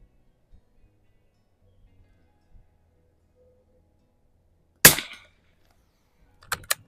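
A single sharp, loud gunshot from a Mossberg 146BA rifle fired on open iron sights at 50 yards breaks a near-silent scene. It is followed by a few quick metallic clicks, likely the bolt being worked.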